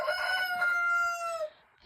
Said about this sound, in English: Hello, roosters.